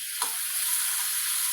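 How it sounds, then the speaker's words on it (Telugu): A medium onion, sliced long and thin, fries in about a spoonful of oil in a pan for fish pulusu, giving a steady, close, dense sizzle with a brief sharper crackle near the start and no talking. "ఒక మీడియం సైజు ఉల్లిపాయ తీసుకొని సన్నగా పొడవు కట్ చేసుకొని 1 స్పూన్ అంత నూనె వేసుకొని వేయించుకోవాలి"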